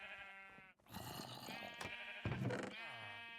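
Minecraft sheep bleating in a video game, several close, clear bleats in quick succession with short gaps between them.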